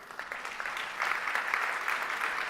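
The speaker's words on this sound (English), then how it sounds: "Give yourselves a round of applause." Audience at a business talk on B2B selling applauds at the end, a faint, distant patter of clapping that swells and grows denser partway through.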